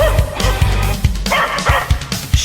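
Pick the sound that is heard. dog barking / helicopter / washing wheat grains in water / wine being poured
dog barking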